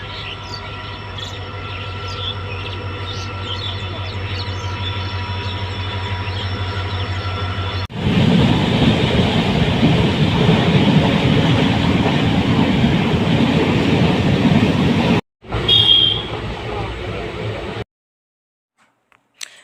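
A passenger train carries riders toward Digboi, its steady rumble loud and close throughout, swelling into a heavier roar partway through, then cutting out briefly before a short burst and a sudden drop to near silence.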